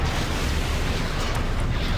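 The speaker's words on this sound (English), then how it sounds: "Alright, let's sonic grenade them." A sonic grenade blast in the video game Knights of the Old Republic 2, a loud, dense rumbling roar that fills the whole moment without letup.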